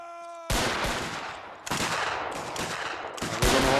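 Ragged musket volleys from redcoat infantry of the 33rd Regiment of Foot in an Anglo-Zulu war game: after a quiet tonal lead-in, several loud close bursts of overlapping gunfire crash in, each rolling and crackling before the next.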